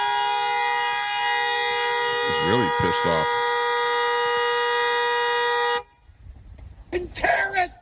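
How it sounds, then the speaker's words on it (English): A vehicle horn blares in one long sustained honk for several seconds, then cuts off abruptly; someone talks briefly over it and afterward. "He sits there honking his horn."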